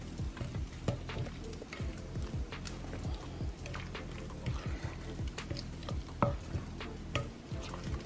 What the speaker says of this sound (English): make sure that you're like kind of folding it into the mix because you don't want it to break up all your crab meat